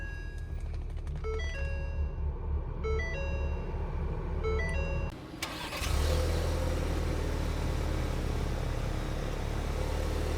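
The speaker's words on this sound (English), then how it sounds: "to start the engine, just put your foot in the brake and push the button to start." A 2024 Ford Explorer EcoBoost Limited is started by push button: a short chime pattern plays, then the engine cranks and catches into a steady, fairly loud idle.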